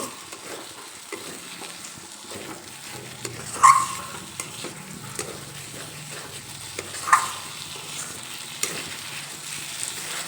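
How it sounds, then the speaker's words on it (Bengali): Red lentils being stirred with spices in a hot pan, a soft continuous sizzle with a few sharper scrapes and clacks of the spoon, fairly quiet and close, with no talking. "মসুর ডাল দেওয়ার পরে একটু নেড়ে চেড়ে নেব এই মসুর ডাল মশলার সঙ্গে ভালোভাবে মিশিয়ে নেব"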